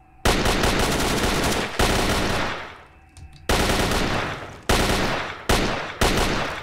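Bursts of AK rifle fire in the shooter game Radiophobia 3, loud and close, coming in several long automatic strings separated by short pauses, with a brief lull near the middle and quick shorter bursts toward the end.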